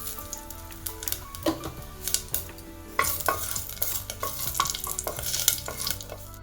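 Bay leaf, dried red chili and cumin seeds fry in hot ghee in a pan on a home kitchen stove, giving a steady close sizzle broken by repeated scraping stirs and light clinks of the utensil against the pan.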